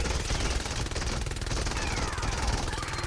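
A Candy Cane LMG in Fortnite: Save the World fires continuously in a dense, rapid stream of shots, steady and close with a heavy low-end rumble and no pauses.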